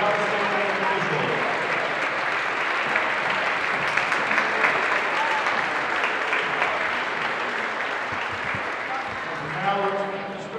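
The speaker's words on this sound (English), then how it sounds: "Give a big round of applause for the Ohio State officials." A gymnasium crowd at a girls' basketball game applauds the Ohio State officials, steady clapping filling the room for about ten seconds, with announcer talk and voices rising near the start and again at the end.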